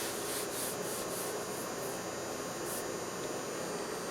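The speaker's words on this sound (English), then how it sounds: "We're going to sand this down." Bondo body filler being sanded on the rusty rocker panel of a Chevrolet Silverado crew cab dually truck, a steady, fairly loud abrasive rubbing hiss that runs continuously with no talk.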